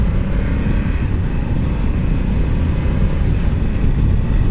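A Honda Africa Twin CRF 1100 motorcycle roars in a loud, steady engine drone with heavy wind rush while riding, its clutch gear shifts blending into the continuous noise, no talk.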